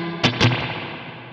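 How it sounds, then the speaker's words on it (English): A guitar played through a Princeton Reverb amp simulation strikes two sharp hits that ring into a metallic spring-reverb clang and decay. "You can really hear that clanging, that spring."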